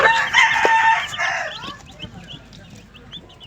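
Chickens crow and cluck around scattered feed. A loud rooster crow opens, then scattered sharp clucks and peeps follow over a low background murmur.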